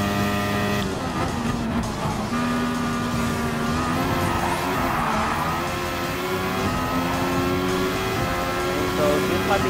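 Mercedes-AMG Formula 1 race car engine in Gran Turismo Sport, a loud, steady high-pitched racing drone held throughout with slight pitch shifts, under continuous speech.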